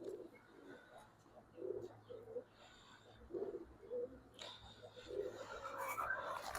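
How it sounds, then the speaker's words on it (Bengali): Pigeons coo softly in a home loft of pet pigeons, a series of short, low, rounded calls repeating every second or so, faint against quiet background hiss with light rustling. "এ হচ্ছে আরেকটা কবুতর"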